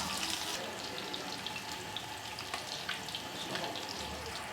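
Turmeric-masala fish frying in a pan, a close, dense crackling sizzle running without pause, with a few scrapes and light knocks as pieces are shifted; no voice is heard.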